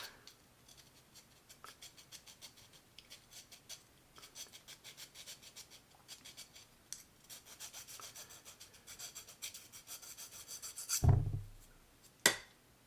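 Scraping and rasping strokes against an aluminium tent pole strip off powder coating, a close series of gritty rubs in uneven rhythm that grow louder near the end, finishing in a couple of sharp knocks.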